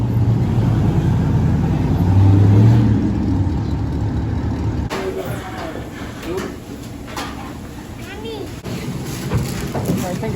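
Trucks gathered at a truck takeover meet rumble with engine noise and clunks nearby, while people talk over and around them throughout.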